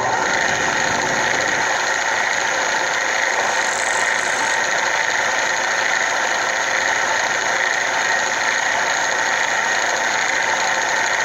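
A milling machine spindle runs at 3,300 RPM with a 3/4 inch collet, a loud, constant high mechanical whine with a dense, even hum under it, steady and close for the whole stretch with no talking.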